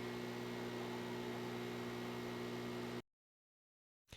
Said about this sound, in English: The audio file I want to use, it's a buzzing sound like this.